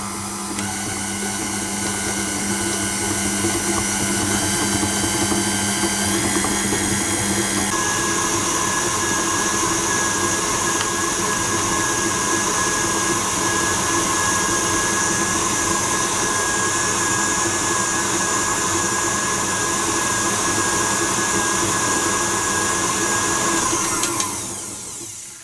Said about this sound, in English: we're going to beat the eggs, the salt and the sugar together